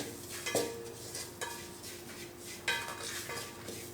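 Asafoetida powder is stirred in a pan over a low flame while cooking sambar, with a few scraping stirs and light metallic clinks against a faint background hum, close and fairly quiet.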